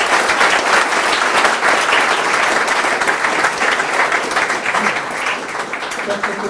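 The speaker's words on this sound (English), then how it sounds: "One more round of applause, please." Loud, sustained audience applause fills a lecture hall at the close of a distinguished lecture, dense and steady throughout before easing slightly near the end.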